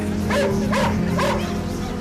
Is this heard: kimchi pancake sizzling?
no